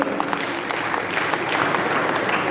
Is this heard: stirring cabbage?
no